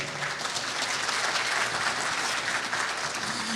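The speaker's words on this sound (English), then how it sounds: "give yourself a round of applause for making it to this event" Audience applause fills a summit hall after the crowd is asked to clap for themselves at a responsible-AI event, a steady dense wash of many hands clapping at once with no talk over it.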